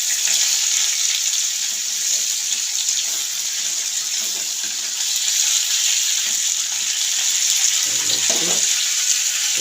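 Vegetables, potato, pumpkin and radish, fry in a pan with a continuous, even hiss of sizzling oil and a few faint stirring knocks near the end.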